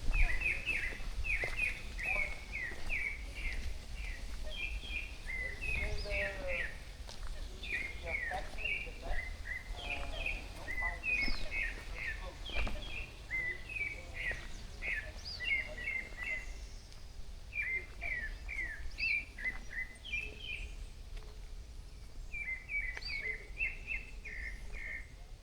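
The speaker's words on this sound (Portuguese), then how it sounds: "Mais um passarinho contratado aí para animar o domingo." A small bird chirps in the Rio de Janeiro botanical garden, giving quick repeated high tweets in bursts over steady outdoor ambience, with quiet voices now and then.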